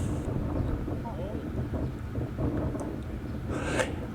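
Steady roar of strong, hot desert wind buffeting the microphone at Saqqara, Egypt, with gusts swelling and easing throughout.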